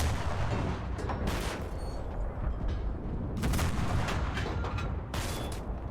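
A tank duel in the World War II shooter Enlisted: heavy booming cannon shots and rumbling blasts come in several loud bursts over a dense, continuous battlefield roar.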